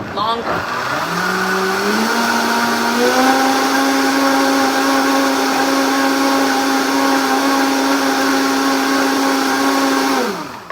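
A blender mixes a tropical smoothie, spinning up quickly to a loud, steady whine that holds for about ten seconds before cutting off, close by.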